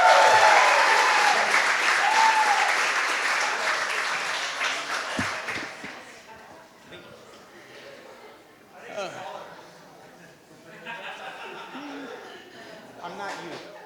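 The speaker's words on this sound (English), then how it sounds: "would you please put your hands together for the father of the bride?" A wedding reception crowd applauds loudly for the father of the bride with sustained clapping and some cheering, gradually fading, followed by scattered claps and murmured voices.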